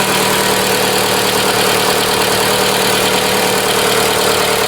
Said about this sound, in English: So as you can hear, the engine is running.